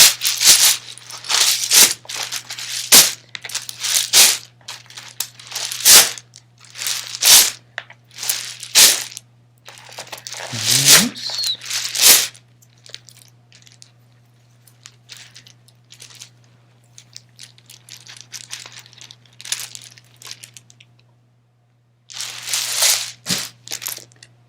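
Items are shuffled in a bag in a series of sharp, close crinkling and rustling bursts separated by short pauses, with a steady low hum underneath.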